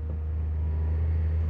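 Low steady engine rumble from an abandoned concept car, a space van, as it slips into gear and starts to move off, a continuous close drone with no talk over it.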